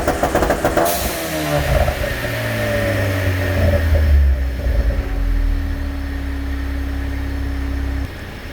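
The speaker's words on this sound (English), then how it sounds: "I'll start the car up and show you the launch control, because who doesn't love launch control?" Ford Focus 2-litre turbo engine held on launch control, a steady loud droning rev with a deep low rumble that holds for about seven seconds before cutting off abruptly, heard close with no talk.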